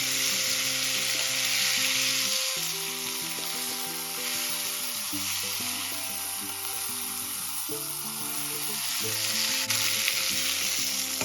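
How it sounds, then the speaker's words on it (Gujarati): Green chillies stir-frying in a pan give off a steady, close sizzle, with soft stirring under gentle background music. "હવે છે ને મરચાંને આપણે હવે તો ધીરે ધીરે ફેરવશું"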